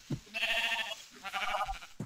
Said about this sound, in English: And I found sheep.